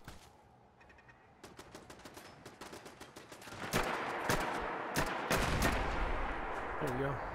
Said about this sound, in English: It's a turret.